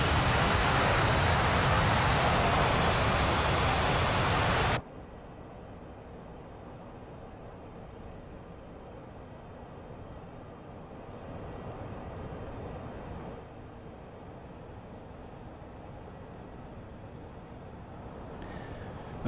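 A Dassault Mirage 2000C jet engine in DCS World roars loud and steady while taxiing, then drops abruptly to a quieter, duller hum that swells slightly midway before holding at a low level.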